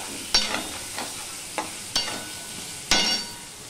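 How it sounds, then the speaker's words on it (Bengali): About a spoonful of ginger sautéing in a pan for a vegetarian Bengali dish: a low, steady sizzle broken by several sharp, close spatula scrapes and knocks as it is stirred. "আদাটা দিয়ে আমি একটুখানি কষিয়ে নেব যতক্ষণ না আদার কাঁচা গন্ধ চলে যায়"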